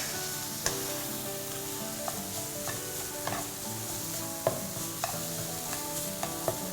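Preserved radish is stir-fried with dark soy sauce, giving a continuous sizzle broken by repeated sharp spatula scrapes and taps against the pan, close and clear, with no talking.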